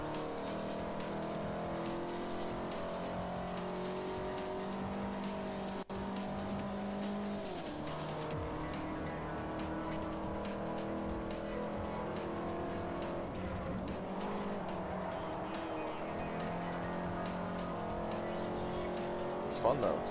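A car in the Forza Motorsport 4 racing game drones at high revs with shifting engine pitch and squealing tires through corners, steady and continuous, while someone talks over it.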